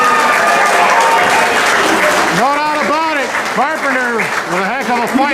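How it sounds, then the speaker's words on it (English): A wrestling crowd at a 2-out-of-3 falls match applauds in a steady wash of noise while someone speaks over it and rising, whooping cheers and shouts break out above the clapping. "I think we can all give this guy a round of applause"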